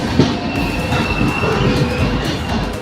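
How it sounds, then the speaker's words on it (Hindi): Janhit Express passenger train pulling into Hajipur Junction station, a steady loud rumble of rolling coaches with wheel noise and a faint high squeal running throughout, no voices. "तो ट्रेन हमारी अराइवल हो रही है इस सेंट्रल के headquarter Hajipur junction railway station"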